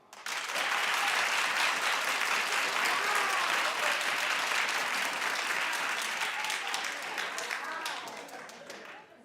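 A studio audience at a daytime talk show claps loudly and continuously, with whoops and cheers mixed in; the applause holds for several seconds, then begins to thin out at the end.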